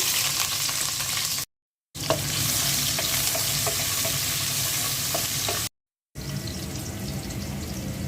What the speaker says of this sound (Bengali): তেল দিয়ে দিচ্ছি পেঁয়াজ কুচি দিয়ে দিচ্ছি